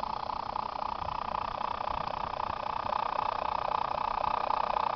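Radio receiving steady electrical hiss and buzz from a nearby Joule thief Muller dynamo, a continuous even noise with a faint whine, fairly quiet and unchanging throughout.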